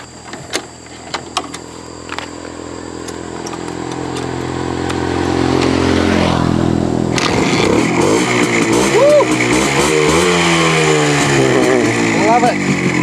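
A motorcycle engine on a Northern Vietnam trip, idling with a steady hum before the pitch swells into rising, wavering revs; a person talks over it.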